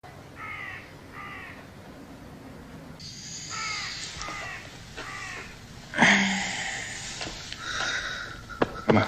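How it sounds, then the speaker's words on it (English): Crows caw in a scene from The Godfather, with several harsh calls in short bursts at a moderate distance, followed by sniffing and rustling sounds nearby. "3 crows are heard in the background"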